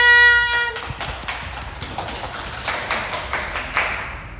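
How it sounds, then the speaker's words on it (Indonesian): Applause from an audience at a school talk show event breaks out after a short musical chime: a dense patter of many hands clapping, steady and fairly loud, fading near the end. "Beri tepuk tangan."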